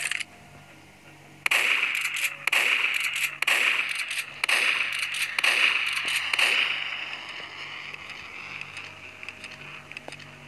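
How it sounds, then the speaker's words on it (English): Shotgun blasts in Roblox Undead Tycoon during a zombie survival round: a rapid run of sharp, loud reports at a quick, uneven pace, then a fading ringing tail with nothing else over it. "Shotgun."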